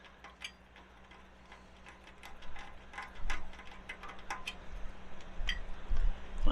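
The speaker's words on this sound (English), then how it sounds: "take these self-tapping screws, stick them in the pre-drilled holes, and tighten that down" Self-tapping screws being driven into pre-drilled holes on a Camp Chef igniter, heard as a quiet, rapid ticking ratchet that grows louder and grinds toward the end.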